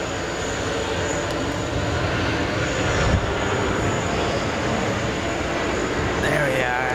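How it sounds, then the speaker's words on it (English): A Lufthansa jet airliner taking off at JFK airport, a heavy, continuous engine roar holding steady at high level, with a faint whistling note rising near the end. "And there goes Lufthansa."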